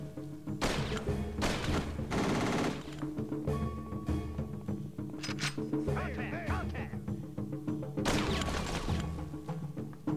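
Gunfire in the PS2 shooter Kill Switch, with repeated bursts of shots and heavy thuds that come in loud clusters over a layered game soundtrack.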